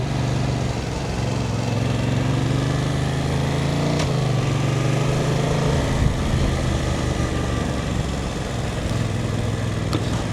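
Yamaha Tracer 7 motorcycle engine droning steadily while riding, a close continuous hum with wind rush that shifts pitch slightly as the revs change.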